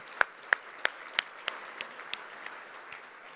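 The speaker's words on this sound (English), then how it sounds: "Please join me in giving all of our sponsors a big round of applause." Audience at a World Trade Week event applauding the sponsors, heard as a run of sparse, separate claps, about ten over a few seconds, moderately near and fading slightly toward the end.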